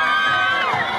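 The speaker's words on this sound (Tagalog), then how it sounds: "Napuno ng hiyawan ang buong San Jose City Sports Complex kung saan ginanap ang nasabing okasyon." A dense crowd shouts and cheers at a street dance parade and cultural dance competition in a city sports complex, a brief loud burst of high-pitched whoops and voices.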